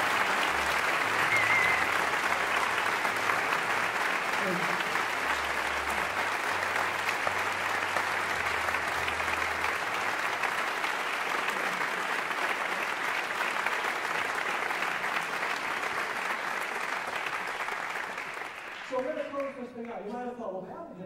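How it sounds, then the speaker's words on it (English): Audience applause for a visiting university men's chorus at a choral concert, a dense, steady roar of clapping from a large crowd that carries on for about twenty seconds before tapering off. "would you please give another round of applause to"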